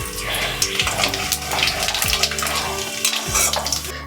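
Panch phoron spices hitting hot oil for tempering in a Bengali kudli fish-head dish, a steady loud hiss and crackle of sizzling that holds throughout with no voice.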